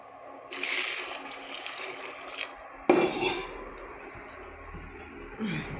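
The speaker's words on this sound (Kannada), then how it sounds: "ಮಿಕ್ಸ್ ಮಾಡ್ಕೊಂಡಾದಮೇಲೆ ನೀರು ಹಾಕೋಣ." Filtered water is poured from a vessel into cabbage curry cooking in a pan, with metal clinks of pots and utensils and a sharp knock partway through, heard close in a kitchen without talk.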